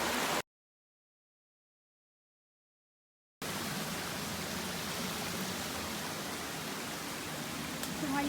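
A Hong Kong waterfall gives a steady, full rushing roar that starts after a few seconds of silence near the beginning and then continues evenly to the end.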